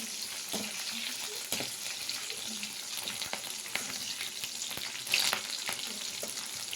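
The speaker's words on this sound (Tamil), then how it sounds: "நல்லா பொன்னிறமாக வதக்கிக்கலாங்க நல்ல அப்படியே வதக்கிடலாம்" Chopped onion and green chili sauté in hot oil for an okra tamarind curry, making a steady crackling sizzle with intermittent stirring scrapes and a brief louder burst near the end, no talk.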